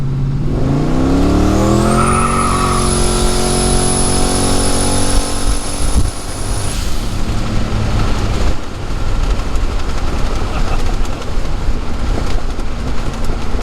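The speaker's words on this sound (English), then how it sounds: "we're gonna do a quick second gear pull here and see what it does" Turbocharged LeMans car pulling hard in second gear, a loud engine note climbing steeply over several seconds with a rising turbo whine, then cutting off into rough idle and road noise.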